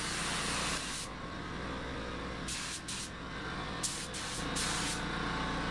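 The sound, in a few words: spray painting with a spray gun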